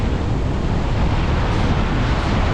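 Strong wind buffets the microphone during a cast of a big popper lure, a constant loud roar with no break and no voices.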